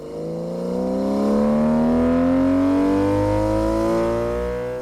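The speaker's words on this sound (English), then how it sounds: "driving on the roads near the very British village of Ditchling in a very German BMW" A BMW E36 M3 GT driving on country roads near the village of Ditchling, its engine climbing steadily in pitch through the gears, loud and close with a strong rising harmonic whine.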